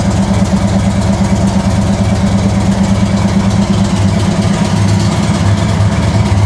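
A 2022 Indian Chief motorcycle idles close by, a loud, steady low engine rumble with an even throbbing pulse that runs throughout, with no voices.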